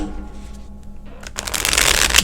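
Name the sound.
drawing cards from a deck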